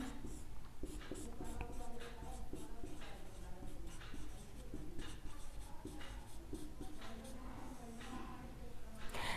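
Chalk or marker scratching across a board during a Hindi chemistry lesson, a steady run of short scraping strokes heard close under continuous classroom noise and faint talk.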